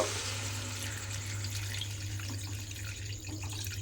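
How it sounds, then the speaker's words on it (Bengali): Water pouring steadily into a pot of cooking chickpeas, a continuous close splashing flow over a low steady hum, with no talking. "দেখুন সমস্ত কিছু সেদ্ধ হওয়ার জন্য আমি এখানে পরিমাণ মতো জল দিয়ে দিলাম"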